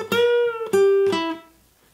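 Acoustic guitar plays the second lick of a song's intro: three plucked notes with slides, each ringing clearly, alone and close, fading out at the end.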